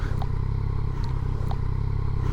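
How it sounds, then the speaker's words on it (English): A Yamaha Niken GT motorcycle rides in the rain through deep puddle water, giving a constant heavy engine and wind rumble with dense spray hiss and a few sharp splashing clicks. "let's go through that puddle, see how it feels through deep water"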